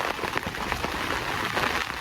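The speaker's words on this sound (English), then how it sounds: "As you can probably hear as the rain lashes down on the shelter." Heavy rain lashing down on a beach fishing shelter on Chesil Beach in January, a loud, dense, steady patter drumming close overhead without pause, no voices.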